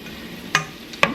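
Italian sausage sizzling in a slightly sticky pan while a utensil breaks it up, with two short scraping knocks close by over a steady soft frying hiss.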